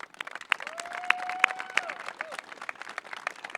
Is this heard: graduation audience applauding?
yes